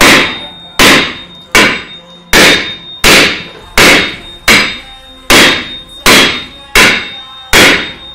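A claw hammer tapping a rusty car part in a repair shop: about eleven loud, sharp metallic clanks at a steady, roughly one-per-second rhythm, each ringing briefly before the next strike.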